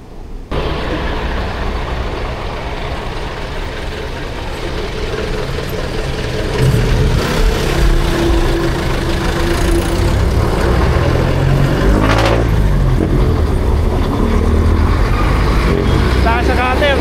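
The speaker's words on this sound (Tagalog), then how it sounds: "Guys, namumuo na yung traffic dito." Heavy city traffic with trucks and buses on Aurora Boulevard in Cubao, heard from a fixed-gear bike: a steady, close rumble of engines that thickens partway through, with a horn-like tone near the end and a voice talking over it.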